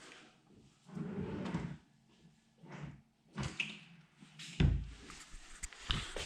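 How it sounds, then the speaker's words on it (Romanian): Soft-close slides on glossy white chipboard bedroom drawers glide and settle, giving several soft rumbling slides and muted thuds, close and fairly quiet, with light handling noise between. "Glisiere cu amortizare la sertare."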